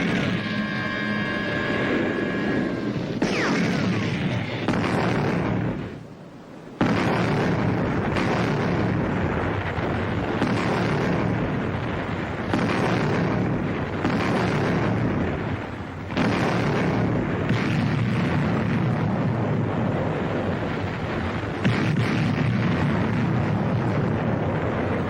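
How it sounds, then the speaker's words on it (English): British artillery shells burst on battlefield positions in a continuous loud, rumbling barrage, with short heavy blasts rolling into one another and a brief lull partway through. "The British artillery are hitting our positions. They are hitting right on the button."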